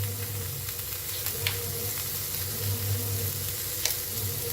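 Onion and ginger fry in a pan with a steady, close sizzling hiss, broken by occasional sharp crackles and stirring clinks, over a low background hum and with no talking.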